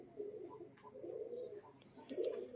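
A male pigeon, a Giribaj tumbler, gives low, soft rolling coos in several short pulses, close and quiet, with no voices.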